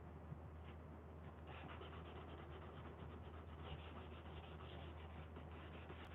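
Steady, continuous rubbing of sandpaper over wood by hand, close and alone over a low background hum, with a brisk back-and-forth texture throughout.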